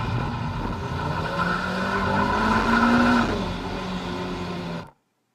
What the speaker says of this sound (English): you're going to light up that inside tire like I did